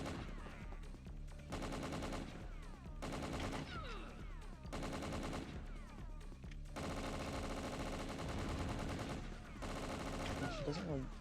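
Rapid gunfire in WinBack: Covert Operations on PS2, bursts of automatic shots in several sustained volleys separated by brief pauses, loud and up close over game sound.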